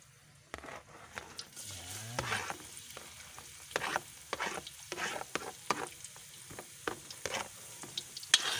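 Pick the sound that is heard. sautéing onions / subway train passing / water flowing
sautéing onions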